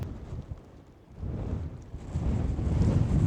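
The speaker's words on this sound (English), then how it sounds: "Well, it is pretty windy here" Strong wind roars and buffets the microphone in gusts beside an iced-over pond, building louder toward the end with no voices.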